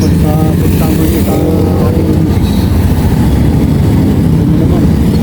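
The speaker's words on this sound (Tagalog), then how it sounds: "Maraming mga motor na dumadaan." Motorcycles roar past on a road, a loud, steady wash of engine noise that fills the whole stretch with no letup, with voices faintly mixed in.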